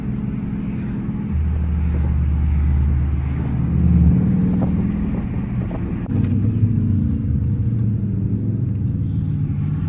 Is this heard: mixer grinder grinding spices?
no